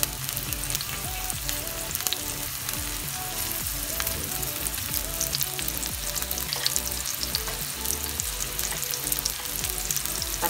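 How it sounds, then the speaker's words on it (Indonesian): Garlic and onion fry in a pan for Bicol Express, giving a steady, dense sizzle with crackling pops and occasional stirring scrapes, close and continuous. "Susunod natin yung ating sibuyas para pag nagkulay brown na yung ating bawang, iluto na rin yung sibuyas."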